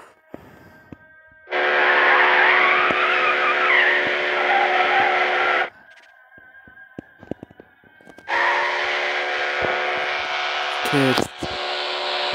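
Car tires squeal in two long, loud skids as a car drifts in the Need for Speed racing video game, separated by a quieter stretch of engine hum and clicks, with a sharp burst near the end.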